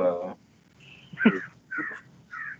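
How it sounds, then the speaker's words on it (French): Birds call in a garden in Arkansas: a handful of short, harsh, caw-like cries spaced apart, fairly close and clear against a quiet background. "on entend les oiseaux"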